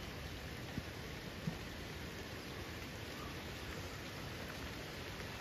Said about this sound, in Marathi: आणि अजून एवढा पाणी भरून पण पाऊस काय थांबलेलो नाही आहे